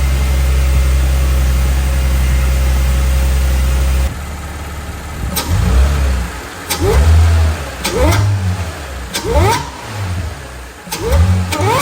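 Audi S4 with a modified exhaust, first heard idling steadily with a deep drone, then revved in several sharp, loud blips that rise and fall close by, with no talking.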